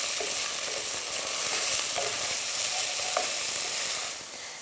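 Garlic, onion and ginger frying in a pan, a dense steady sizzle with a few faint scrapes of stirring, dropping off slightly near the end.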